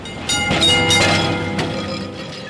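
An old tram in Kolkata rolls past on the street, a brief rumbling, clattering rush with metallic screeches that swells and fades over a couple of seconds.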